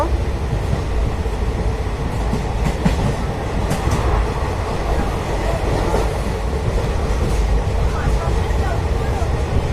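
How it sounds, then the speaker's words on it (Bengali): A train rumbles steadily with rhythmic clickety-clack of wheels on rails, loud and close from inside the carriage, as it rolls into Belda station. "ট্রেন ঢুকছে বেলদা স্টেশনে, এখন আমরা নামবো"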